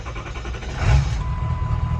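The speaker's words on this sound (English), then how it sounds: "You guys just heard a start of the engine there." A 2002 Ford F-350 4x4 with a 7.3L diesel engine fires up and settles into a steady low rumble, with a brief surge near the start and a faint high tone running underneath.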